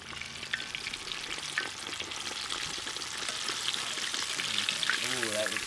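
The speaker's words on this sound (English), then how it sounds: "we're just going to fry these until they're golden brown and done" Battered artichoke hearts deep frying in hot oil, a steady bright sizzle and crackle running throughout, with a few light clinks and faint stirring noises near the end.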